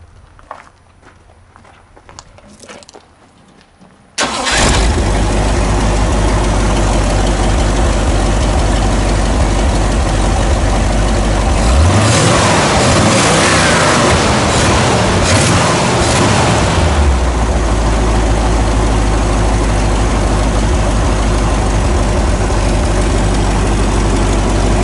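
After a few seconds of quiet, a 360 V8 engine in a 1974 Jeep CJ5 starts and settles into a loud, rumbling idle, swelling briefly in a rev midway before returning to a steady idle.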